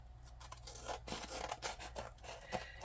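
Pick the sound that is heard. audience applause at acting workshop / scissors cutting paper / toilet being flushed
scissors cutting paper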